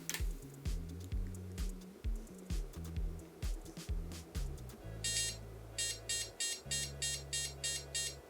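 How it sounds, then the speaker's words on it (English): A run of POST error beeps from an Amptron PM-9600 Socket 7 motherboard starting up with no video card: repeating short tone patterns, then sustained buzzing tones with rapid high-pitched chirps. "Eight beeps, that's the missing video card"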